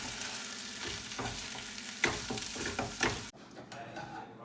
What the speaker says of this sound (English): once you add your egg, you mix it around